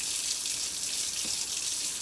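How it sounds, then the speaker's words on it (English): Water runs from a tap in a steady, close hiss while tie-dye fabric is rinsed, with no break in the flow and no talk. "Put off the water."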